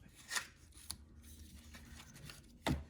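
Scissors make a banner cut into the paper edges of a stamped card, with a few sharp crisp snips separated by quiet rustling, close and clear, and no talk.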